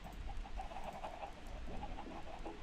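A chicken in the Minecraft video game gives a few soft, short clucks over a low, steady background hum, heard alone without talk.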